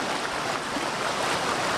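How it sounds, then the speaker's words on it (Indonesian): River water flows steadily past an old Dutch-era sluice gate at a forest dam that diverts flow into an irrigation channel, making a continuous close rushing wash with no pauses. "Ditemani suara air mengalir."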